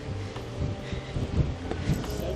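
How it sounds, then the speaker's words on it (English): Gusty wind rumbling and buffeting across a microphone outdoors at old tin mines in Cornwall, a steady low roar with irregular thumps. "I can't believe the wind's got up like it has."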